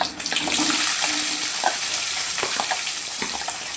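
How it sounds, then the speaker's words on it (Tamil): Onions frying in oil with fennel and cinnamon, a loud, dense, continuous sizzle heard close up with no talking. "வெங்காயம் இதெல்லாம் பொரிஞ்சிருச்சு பெருஞ்சீரகம் பட்டை இதெல்லாம் இப்போ வந்து வெங்காயத்தை போட்டுக்கலாம்"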